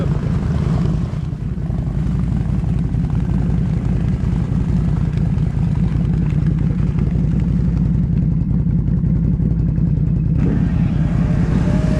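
A 2022 Can-Am Outlander 570 XMR ATV engine running hard in mud, a loud, close, steady droning roar that holds throughout with slight shifts in pitch as the throttle varies.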